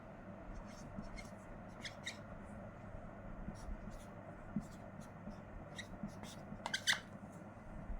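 Pen scratches out notes by hand at a quiet desk, soft intermittent strokes and taps spread across the stretch, with faint room hum beneath.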